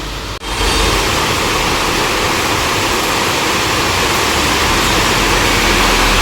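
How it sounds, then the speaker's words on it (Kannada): Heavy rain pours down in the evening darkness, a loud, dense and unbroken hiss that starts after a brief dip and holds steady throughout. "ಮಳೆ"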